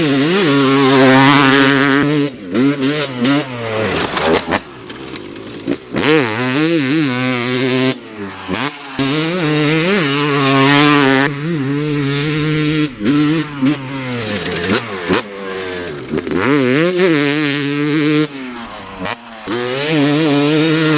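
A tuned 250cc two-stroke motorcycle engine built with upgraded parts revs hard and repeatedly, loud and close, its pitch climbing and dropping in sharp bursts with brief gaps between blips.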